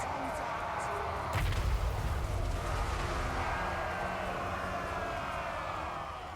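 Cassandora's Comets spell explosions in the Total War Warhammer 3 video game, a heavy thudding impact followed by a dense, rumbling roar of blasts and battle noise that slowly fades, with faint talk underneath.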